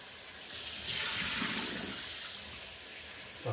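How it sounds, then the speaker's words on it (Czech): Broccoli is rinsed under running tap water in a kitchen sink, a steady hiss of water starting abruptly, running for a few seconds and then easing off. "Teď to opláchnu."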